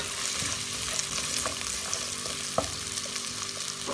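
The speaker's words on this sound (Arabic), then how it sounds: "هلأ بحط الجزر، بقليهم شوي كمان للجزر" Carrots fry with onion in a pan for vegetable soup, a steady close sizzle with occasional stirring clicks and scrapes throughout.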